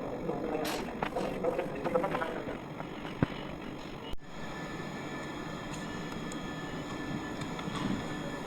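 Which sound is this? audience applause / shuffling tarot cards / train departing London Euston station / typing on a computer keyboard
train departing London Euston station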